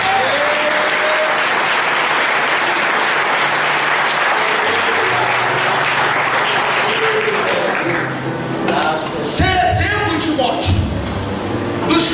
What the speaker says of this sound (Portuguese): Quem pode aplaudir a Jesus por isso?